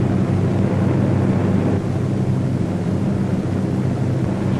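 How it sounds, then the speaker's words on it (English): A formation of WWII B-17 bombers in flight, a steady dense droning roar of many piston engines, loud and continuous without break. "A formation of 18 B-17s was on its way to attack Rouen."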